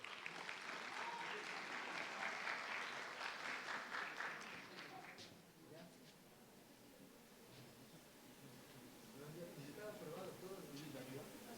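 Applause from a conference audience at a social work congress greets a speaker, a dense steady clapping wash that fades after about five seconds into a quieter room with a voice and scattered rustling.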